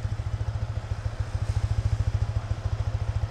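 A stock Yamaha XSR155 motorcycle engine idles nearby with a steady, rapid low thumping pulse, even and unbroken throughout.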